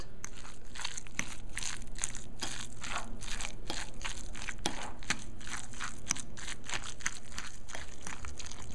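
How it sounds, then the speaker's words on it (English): Crab meat and soft room-temperature cream cheese being stirred together for a seafood stuffing, giving steady, close, wet squelching and crunching strokes in a regular rhythm, with no talking. "here's the crab meat and the cream cheese, and now I'm gonna just mix everything together"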